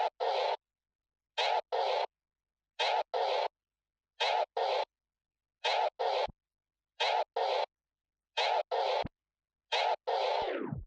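Beginner DJ scratch drill: a record scratched back and forth with the crossfader cut off and on once during each forward push, giving evenly spaced pairs of short clipped bursts, loud and alone, ending in a longer slowing drag.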